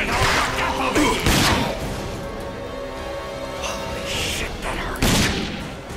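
Gunfire in the shooter game Rage comes as several loud, sharp bursts of shots, spaced a few seconds apart over a steady background, near and dominant with no speech.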